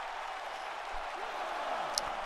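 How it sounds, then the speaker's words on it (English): Steady wash of video game crowd noise from the WWE 2K19 arena during a tag match, a continuous broadband roar of cheering with a faint swell, no clear speech over it. "listen to this crowd"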